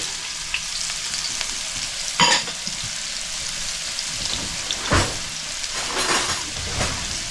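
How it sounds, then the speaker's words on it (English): Onions and garlic hit a hot pan and fry with a steady, loud sizzle, broken by a few sharp crackles and stirring scrapes, with no voices. "I'm going to add onions. Woo! The pan is hot. And my garlic."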